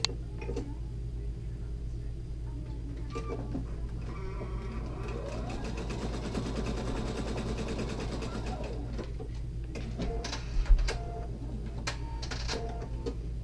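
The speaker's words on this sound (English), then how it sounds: "So I'm going to go ahead and move my needle over and sew this together." Sewing machine stitching a scant quarter-inch seam on a quilt block, a rapid mechanical whir with fast rhythmic needle clatter that builds in the middle and then slows, close and moderately quiet, with a few separate clicks before and after.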